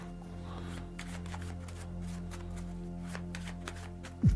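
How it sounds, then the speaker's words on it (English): Soft, quick riffling of playing cards being shuffled, several light flutters over a low steady hum, ending with a brief louder knock. "Now I want you to give them a quick shuffle."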